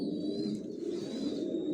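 Large racer pigeon chicks in a loft give low, murmuring coos in a continuous close cluster, with a thin high whine running faintly beneath.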